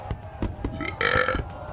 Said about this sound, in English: And a burp to top it off.